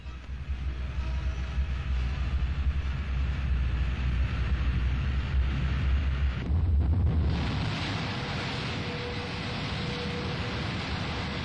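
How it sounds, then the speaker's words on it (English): The Crusader jet-engined speedboat's jet engine starting up, a loud continuous roaring rush with heavy low rumble and wind buffeting, swelling briefly in the middle before settling into a steady roar, no voices. "Batteries start up her jet engine."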